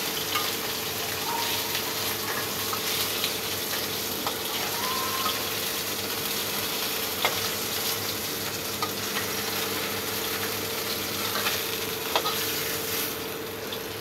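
Bombay duck fish frying in hot oil, a continuous dense sizzle and crackle with scattered pops, steady and fairly close, with no one speaking.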